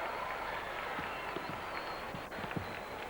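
Crowd noise and cheering from spectators at a volleyball match in the Hong Kong Coliseum, a steady broad roar with scattered claps and shouts, moderately loud and continuous throughout.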